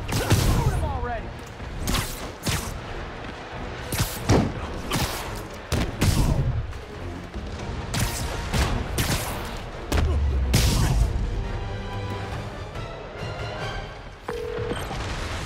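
Gunfire from Marvel's Spider-Man Remastered: repeated bursts of shots and booming impacts scattered through a busy fight, mixed with effects and voices talking over the action.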